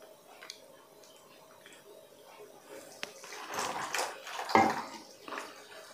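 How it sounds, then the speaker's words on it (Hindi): Water from a 400 ml pouch pours into a wok, a soft rushing splash that builds over a couple of seconds and fades, with faint clicks and handling noises before it. "ये 400 ml हो गया है, हम इसमें खाली कर लेंगे कढ़ाई के अंदर।"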